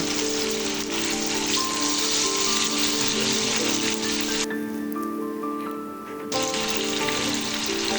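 Fish fries in hot oil over a high flame in a Nepali-style kitchen, a dense, loud crackling sizzle that dips briefly then surges back, steady and close, with no talking.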